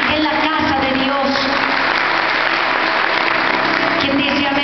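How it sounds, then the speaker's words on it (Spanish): Loud, steady applause from a church concert audience cheering for the men present, a dense wash of clapping that keeps going without a break. "Un aplauso a los hombres que están aquí esta noche"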